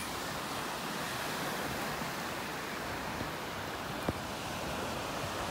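Ocean surf washes steadily onto Adgaon Beach at Velasagar, a steady broadband roar of waves with no talk, and one brief sharp tap near the end.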